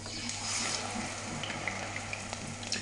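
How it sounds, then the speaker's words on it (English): Battered onion frying in hot oil in a frying pan gives a steady, soft sizzle with faint crackles, close and continuous throughout. "I'm putting this into a hot frying pan now"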